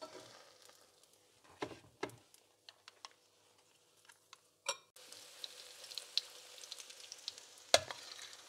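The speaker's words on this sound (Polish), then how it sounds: "Placki, ostatnia porcja smaży się" Apple pancake batter made with kefir sizzles and fries in a pan, a steady crackling hiss joined by occasional scrapes and taps of a utensil, close by.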